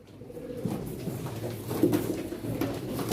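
Pigeons cooing at a pigeon auction, a steady close murmur of several birds calling over a busy indoor background with no talk over it.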